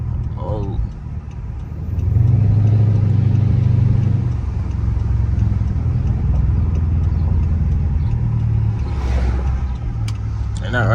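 Rebuilt all-wheel-drive 2024 Dodge Charger engine revs loudly through downshifts, a sustained low rumble that swells near the start and holds steady, with people talking over it.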